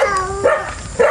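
A pet dog barks at a campsite, a few close, loud yapping barks with a whiny edge, spaced about half a second apart.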